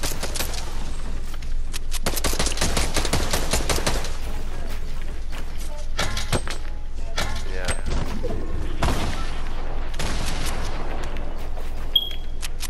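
In a video game, gunfire comes as loud rapid volleys of shots in repeated bursts, with short gaps between them and a few sharp thuds.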